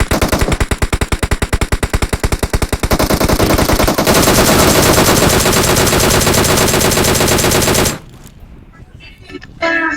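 Rapid automatic gunfire in PUBG Mobile, a sustained burst of closely spaced loud shots that merges into a dense roar, then cuts off into quieter distant shooting and game noise, with faint talk under it.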